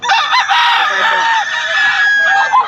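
Chickens and roosters at a Bocaue flea market, loud close crowing and clucking from several birds overlapping continuously throughout.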